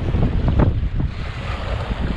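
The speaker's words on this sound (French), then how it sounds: "c'est pas des vagues régulières, c'est des vagues un peu dans tous les sens" Choppy, irregular Atlantic waves sloshing around a small rowing boat, with strong wind buffeting the microphone in loud rumbling gusts.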